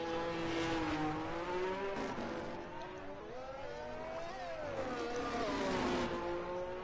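A McLaren race car in a racing video game drives through the stadium section of a Mexico circuit, its engine whining steadily and rising and falling through the gears as it accelerates and brakes, loud and continuous.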